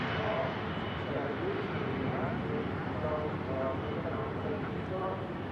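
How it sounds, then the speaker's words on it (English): A Hainan Airlines airliner taxiing slowly at Manchester Airport gives a steady broad engine roar and hum that stays even for the whole stretch, with faint talk mixed in underneath. "Goes the Aer Lingus back to Dublin, and the beautiful Hainan slowly taxiing out."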